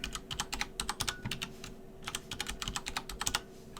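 Rapid keystrokes on a computer keyboard while entering a root password during server setup, a close, steady run of light clicking taps under a faint machine hum.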